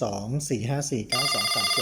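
Someone speaks briefly, then an NEC AT-55 telephone's electronic ring starts, bright and steady under his continuing voice.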